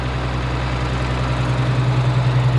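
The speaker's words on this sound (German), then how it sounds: "jetzt will ich hoffen, dass der Bus anspringt" A bus engine idles steadily at close range, a deep, even low-frequency rumble with faint vibration and no talk over it.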